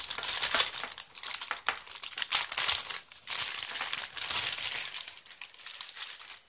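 Plastic packaging around a GeForce GTX 750 Ti OC Edition graphics card crinkles and crackles continuously up close during unboxing, loud and uneven with brief pauses.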